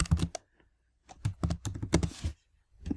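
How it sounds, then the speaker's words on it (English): Quick bursts of typing on a computer keyboard, close clicky keystrokes in short runs with brief pauses between. "we'll type in asterisk here"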